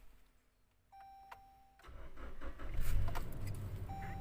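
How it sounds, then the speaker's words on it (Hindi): Toyota Hilux 2016 pickup with a startability fault: a quiet electronic beep and jingle, then the engine cranks and catches, building into a loud, steady idle close by, with no talking. "गाड़ी स्टार्ट हो गई है।"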